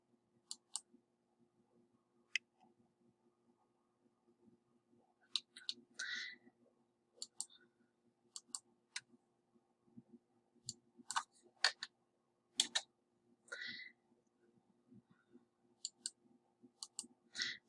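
Crisp computer mouse clicks, quick single taps and short pairs scattered irregularly with pauses between them, close and quiet over faint steady room hum.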